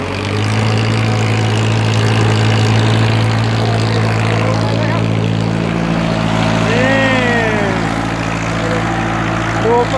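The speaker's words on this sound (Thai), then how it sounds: "ไถแบบไม่มีคนขับเลยครับ" A driverless tractor plows a field, its engine droning loud and steady throughout with a low hum, while a voice speaks over it.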